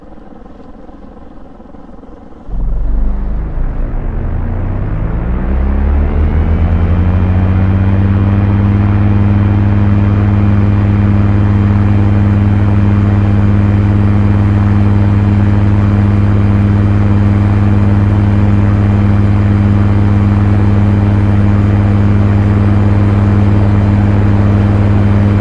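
A seaplane engine in a flight simulator spools up for takeoff. It surges from a lower idle into a loud, steady, droning roar with strong low harmonics that holds constant for over twenty seconds with no talk over it.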